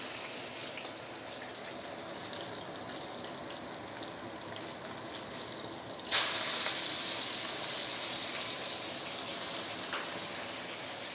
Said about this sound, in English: Once the oil is heated up, I'm going to put in the fish. We're going to pan fry for probably a couple of minutes.